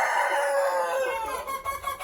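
Hen calling from inside a pigeon coop compartment where she lays her eggs, a loud, close, drawn-out vocalization that wavers and fades slightly toward the end.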